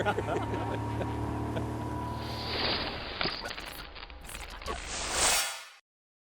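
A fishing boat's outboard motor runs steadily on the water, a continuous engine drone with hull and water noise that swells near the end before cutting off abruptly.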